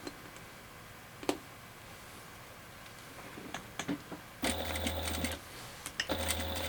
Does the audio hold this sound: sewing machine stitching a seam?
yes